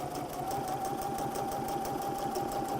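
A sewing machine stitches a steady straight seam, its needle chattering in a fast, even rhythm that runs unbroken and fairly loud throughout, with no talking.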